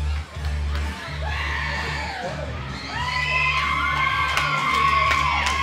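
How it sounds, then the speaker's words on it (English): A wrestling crowd at an EPW independent show cheers and yells wildly, with shouting and whoops swelling throughout under a constant low hum. "Crowd goes wild."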